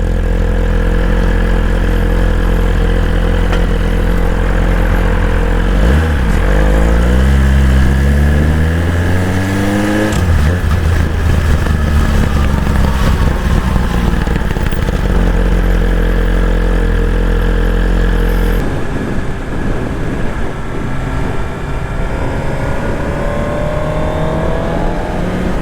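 A Suzuki GSX-R1000R sport bike with a catless budget exhaust idles loudly up close, then revs up and back down in several rising and falling sweeps, the engine note dropping to a steady throb between blips.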